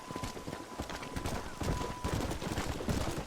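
Horse hooves clip-clop in a steady galloping rhythm through the Western game Red Dead Redemption (2010), close and fairly loud over a dense bed of game noise and faint distant shots, with no talk.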